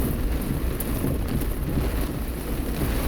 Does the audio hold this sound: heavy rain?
yes